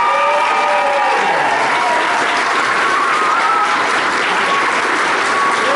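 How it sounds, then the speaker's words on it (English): A convention audience gives actor Dan Starkey a big round of applause: loud, dense, sustained clapping that fills the whole stretch, with scattered cheers and whistles rising above it. "Please give a massive round of applause for Dan Starkey"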